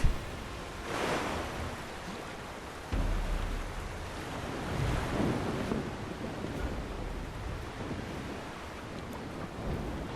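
Ocean waves washing against a sailing ship in Mount and Blade II Bannerlord, a continuous soft rush of surf and wind with gentle swells and no talk.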